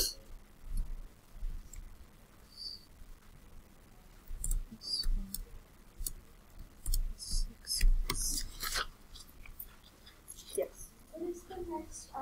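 An equation is typed into Desmos on a computer keyboard in short bursts of crisp, close key clicks, separated by pauses, while a person talks.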